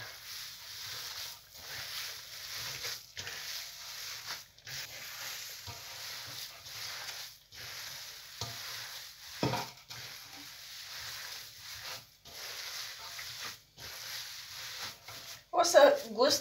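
Rhythmic scraping strokes of a spoon stirring a thick caltaboș mixture in a bowl, repeated evenly and quietly, with a louder clatter right at the end.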